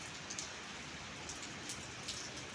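Heavy rain falls steadily through the night as a dense, even hiss, with faint scattered drops pattering over the wash and no talking.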